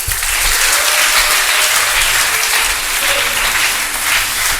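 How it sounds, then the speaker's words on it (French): A church congregation applauds for the Lord during a Christmas service, loud and sustained clapping from many hands that holds an even, full level for several seconds. "Est-ce qu'on peut applaudir pour le Seigneur?"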